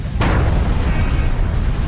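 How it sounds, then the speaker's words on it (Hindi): Rocket explosion at the US embassy in Baghdad, a single loud sharp blast followed by a sustained low rumbling roar that decays slowly. "रॉकेट अमेरिकी दूतावास के अंदर फटा।"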